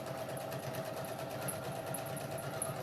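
A sewing machine stitches a tee shirt strap onto a fabric face mask with a continuous, close, even whirring hum, steady and unbroken throughout, with no talking.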